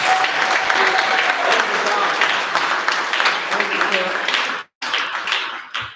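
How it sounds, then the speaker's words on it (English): An audience at a press conference for the 53rd annual African American Day Parade applauds loudly, dense clapping mixed with crowd voices that cuts out briefly near the end before resuming. "I want you to give him a big round of applause"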